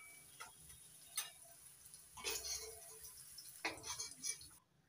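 Faint, scattered clinks of a utensil against a pan as lightly fried paneer is lifted out, a few sharp metallic taps over a soft oil sizzle, with no voices.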